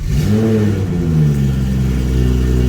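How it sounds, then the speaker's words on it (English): A BMW engine runs with a steady mid-pitched drone after starting, rising in a sustained rev that stays loud and close throughout, with no talking over it. "So we're gonna go ahead and start the car."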